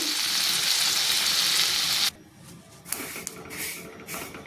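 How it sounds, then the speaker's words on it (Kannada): Sesame seeds roasting in a pan over a low flame while making onion chutney, a steady dense sizzle that breaks off sharply halfway, then returns as softer, patchy crackling with small stirring scrapes. "ಎಳ್ಳು ಹುರ್ಕೋಬೇಕು ನೋಡ್ರಿ, ಸಣ್ಣ ಉರಿ ಇಟ್ಕೊಂಡು"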